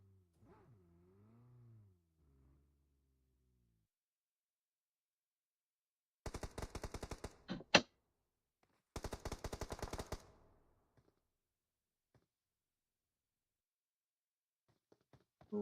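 Two bursts of rapid automatic gunfire from a video game esports match, each lasting about a second or more with a sharp crack between them, loud against near silence, preceded by a faint low hum.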